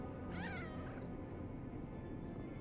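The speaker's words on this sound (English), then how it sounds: "And then we can pet the cat now." A cat in the video game Lies of P meows once while being petted, a short wavering mew over a steady background hum of game ambience, with no talking.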